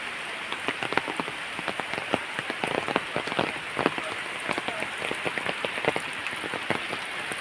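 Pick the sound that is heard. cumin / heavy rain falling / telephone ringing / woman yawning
heavy rain falling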